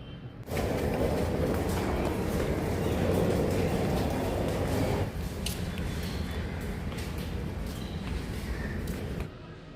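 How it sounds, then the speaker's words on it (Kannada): A Mumbai local commuter train rumbles along steadily with a dense, continuous roar of wheels and carriage noise, close by, shifting slightly midway. "ಇದು ಇಲ್ಲಿನ ಲೋಕಲ್ ಟ್ರೈನ್"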